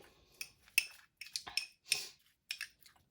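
A spoon stirs a fenugreek and coconut oil hair mask, half-ground seeds and oil, in a bowl, giving a series of quiet, close clinks and scrapes at irregular intervals, with no talking.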